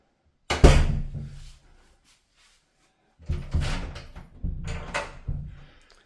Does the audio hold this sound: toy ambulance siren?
no